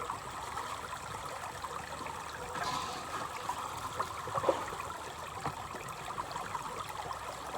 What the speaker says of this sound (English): Plenty of water flow down here.